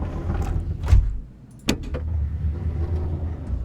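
AV-8B Harrier II canopy opening in Microsoft Flight Simulator: a mechanical whirring motor with a few sharp clunks and thumps, close and moderately loud.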